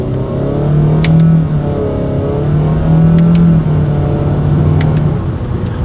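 A 2018 Honda Fit with a CVT accelerating under paddle-shifter control, a steady loud engine drone with tones that rise and dip through the run, heard from inside the car without talk.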